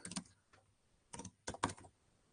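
Someone types on a computer keyboard, a few quiet bursts of clicky keystrokes separated by short pauses in a hushed room, with no voices.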